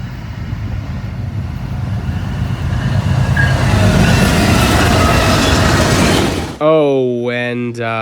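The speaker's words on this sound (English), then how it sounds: "before the first train arrived, which was a GEVO and AC-44" GEVO and AC-44 locomotives lead a train past at close range, a loud steady rumble and roar of engines and rolling wheels that swells and holds, then cuts off abruptly into a brief sustained horn-like tone.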